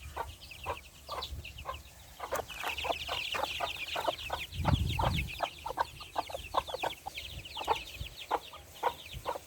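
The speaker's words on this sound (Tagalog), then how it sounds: "Manok ko guys" Several chickens cluck in quick, irregular bursts close by near a rice field, with a soft low thump partway through and faint background noise.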